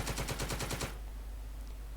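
A bow machine gun fires in a Normandy invasion video game, a rapid burst of about ten evenly spaced shots lasting under a second, then cutting off into a low rumbling background.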